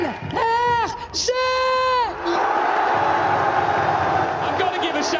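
Crowd at a Valorant grand final watch party for 100 Thieves versus NRG, with loud, sustained roaring and cheering; drawn-out shouted voices rise above the dense noise in the opening seconds.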